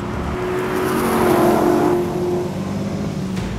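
A supercharged 550-horsepower Ford GT V8 accelerates hard down a track straight, a loud, continuous engine roar that swells near the middle of the clip and eases slightly toward the end, with no talking.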